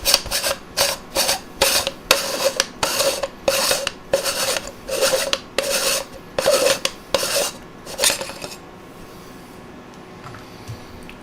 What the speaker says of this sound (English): So again, unscrew.